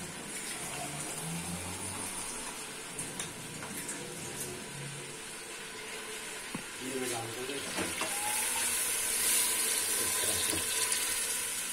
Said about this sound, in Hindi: मैं ले लूंगा थोड़ा सा पानी,